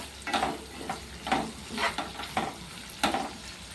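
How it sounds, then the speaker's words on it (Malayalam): Green chillies with half a teaspoon of salt being stirred in a pan for homemade pickle, a soft sizzle under regular spatula scrapes that come about every half second, close and clear. "മുളകൊന്ന് ഇളക്കിയതിന് ശേഷം നമുക്കൊരു 1/2 ടീസ്പൂൺ ഉപ്പിട്ട് നല്ലപോലെ ഒന്ന് ഇളക്കി കൊടുക്കാം."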